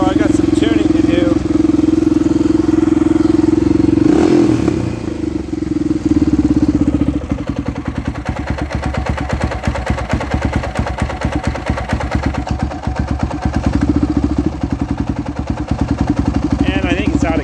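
Honda XR650R motorcycle engine running rough and loud, with a steady idle that stumbles around four seconds, then continues with a choppy, uneven pulse as if struggling to stay lit.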